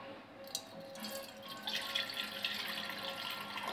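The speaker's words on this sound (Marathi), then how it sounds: "तर मी इथे टोप घेतलेला आहे, त्यामध्ये आपल्याला पाणी टाकायचं आहे" Water pours steadily into a pot, a soft hissing splash that grows fuller partway through, fairly quiet and without voices.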